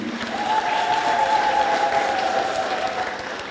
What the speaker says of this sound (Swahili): Tumpigie pia Baba Askofu makofi